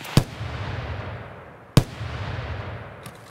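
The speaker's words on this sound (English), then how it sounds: "I think I shot a sniper scav." Two sharp, loud gunshots in Escape From Tarkov about a second and a half apart, each followed by a long echoing tail rolling off into the distance.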